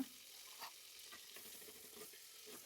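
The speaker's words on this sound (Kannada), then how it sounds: "ಸ್ವಲ್ಪ ಎಣ್ಣೆ ಹಾಕ್ಕೊಂಡು ಸಾಸಿವೆ ಮತ್ತು ಈರುಳ್ಳಿ ಟೊಮೊಟೊ ಹಾಕ್ಕೊಂಡು ಸ್ವಲ್ಪ ಕಲರ್ ಇದಾಗೋ ತನಕ ಬೇಯಿಸ್ಕೊಳ್ಳಿ" Mustard seeds, onion and tomato frying in oil in a home kitchen give a faint, steady sizzle with a few light stirring scrapes, heard alone without talk.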